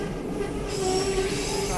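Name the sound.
train wheels squealing on the Skagway railway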